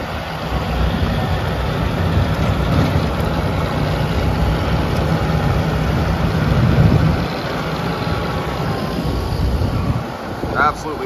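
A Kubota M5-111 tractor snowblowing powder snow runs with a steady, loud engine drone and the continuous rush of the blower throughout, the pitch barely shifting.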